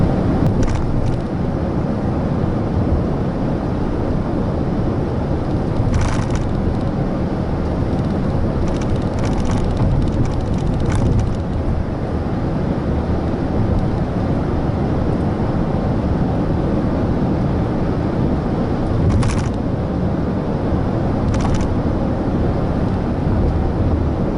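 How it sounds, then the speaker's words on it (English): Inside a 2014 Honda Odyssey EX-L while driving, a loud steady cabin road rumble fills the clip, with a few brief thumps and clicks as the tires pass over small bumps; no talking. "So definitely listen for the little bumps in the road, or kind of what the atmosphere is like inside the car"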